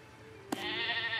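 A single sheep bleat sounds in the Star Stable Online video game, a short wavering cry that starts with a sharp onset and holds steady over a soft background hum.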